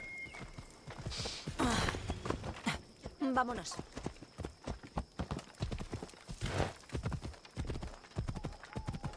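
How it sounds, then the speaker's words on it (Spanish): A horse in the video game Assassin's Creed Odyssey gallops with steady hoofbeats and gives a neigh, while someone talks over the sound. "estoy llamando al caballo"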